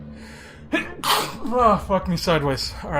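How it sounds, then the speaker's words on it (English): One sharp, loud sneeze right up close, followed at once by someone speaking in a strained voice. "I gotta sneeze though."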